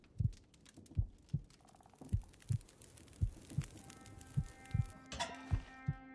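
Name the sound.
character's heart beating in video game The Long Dark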